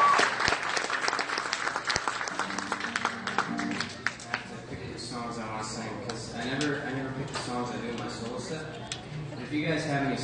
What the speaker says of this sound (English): let's give a round of applause for the band.